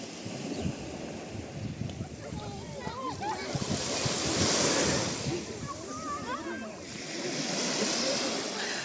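Sea waves wash onto the beach in Odesa at evening, a steady rolling surge swelling twice with hissing foam and splashes, with a person talking over it.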